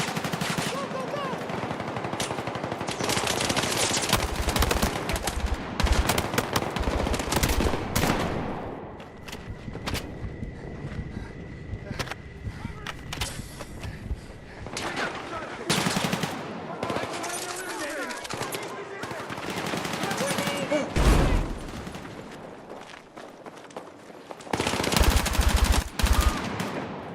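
Rapid machine gun fire and gunshot bursts in a Battlefield video game battle, loud and sustained, with shouted voices and explosions mixed throughout the firefight.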